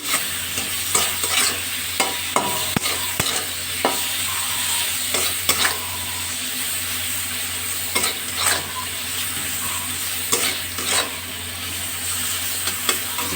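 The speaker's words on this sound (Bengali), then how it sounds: "এই সময় আমি গ্যাসের ফ্লেমটা বাড়িয়ে দেবো একটু নাড়াচাড়া করবো" Mango sour dal is stirred in a pot over a high gas flame, with a spoon scraping and knocking at intervals above a steady low bubbling sizzle, close by and without voices.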